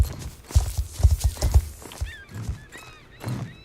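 A Percheron horse in the online horse game Star Stable, with a run of hollow clip-clopping hoofbeats followed by a high, wavering whinny, close and clear with no talk.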